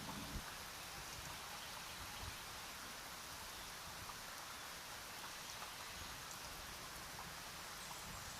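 Steady rain falls throughout, a dense even hiss of drops close by on a school journey, with no breaks or other sounds.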